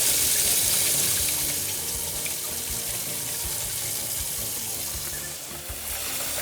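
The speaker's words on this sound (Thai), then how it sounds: "ล้างด้วยน้ำเปล่าอีกครั้งหนึ่งเพื่อล้างกลิ่นน้ำส้มสายชูออก" Tap water runs steadily into a sink while raw pig liver is rinsed clean of vinegar, a continuous close splashing flow heard alone with no talk.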